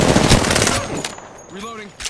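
Rapid video-game gunfire rattles in loud close bursts during a shooter firefight with grenades, then dies down to a brief hissing whoosh before another shot.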